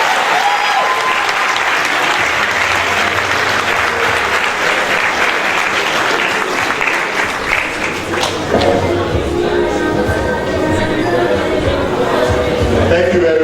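An audience at a geography alumni lecture and award ceremony breaks into sustained, loud applause, with dense clapping and some crowd chatter continuing throughout.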